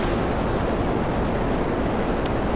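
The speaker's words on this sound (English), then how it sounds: "I hear there's a jet here flying around." A jet flies overhead in Grand Theft Auto 5, giving a loud, steady, broad roar that fills the whole stretch without breaks.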